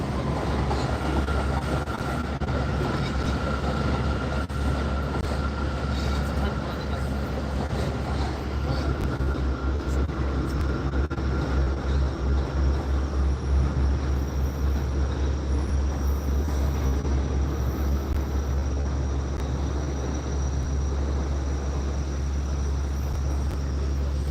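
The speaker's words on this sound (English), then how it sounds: "It's another train, y'all." A train rolls past outdoors on a sunny day, its steady low rumble and rail clatter loud and continuous for the full length without letting up.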